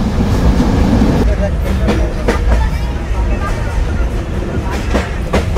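Loud, continuous rumble of the Banglabandha Express, an old-coach passenger train, passing Sardah Road station at speed, with rhythmic clicking of wheels over rail joints and a steady roar throughout.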